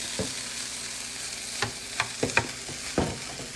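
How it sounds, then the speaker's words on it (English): Cold rice fries in a pan for hibachi-style fried rice, a soft steady sizzle broken by a few sharp scraping stirs and clacks of a utensil, fairly quiet with no talking. "I put my cold rice in it."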